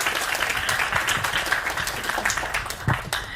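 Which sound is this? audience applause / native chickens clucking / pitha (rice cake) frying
audience applause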